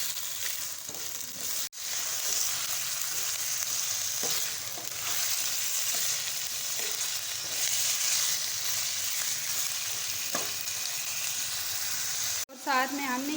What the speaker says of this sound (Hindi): और गोश्त को हम इसमें अच्छी तरह फ्राई करेंगे।